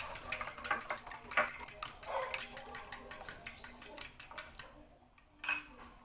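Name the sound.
eggs being beaten with a fork in a bowl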